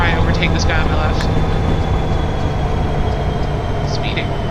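Diesel train engine throttling up in the railway simulator game Train Sim 2015, a loud, steady, broadband rumble and drone that holds at the same level throughout.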